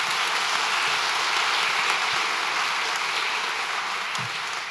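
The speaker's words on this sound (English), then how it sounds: "Give her a round of applause, please." An audience at a school winter festival concert applauds continuously, a dense hiss of many hands clapping that holds steady without talk.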